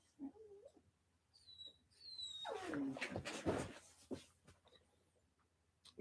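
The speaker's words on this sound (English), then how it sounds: "Your dog whining summoned mine again." A dog whines in high, wavering cries that swell into a longer drawn-out whimper, moderately close indoors, followed by a few faint thumps and no talking.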